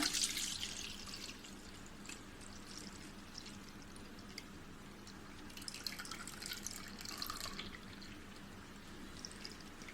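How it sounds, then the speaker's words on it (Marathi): Soaking water drained off rice into a bowl pours in a steady, close stream for the full stretch, with a brighter splashing burst partway through, for Malvani ghavane. "आपण हे जे भिजत टाकलेले तांदूळ आहेत त्यातलं हे पाणी आपण एका बाउलमध्ये काढून घेऊया."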